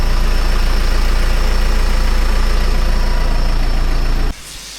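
A mud-caked tractor engine idling during the Champagne grape harvest: a loud, steady, close diesel throb that cuts off abruptly near the end.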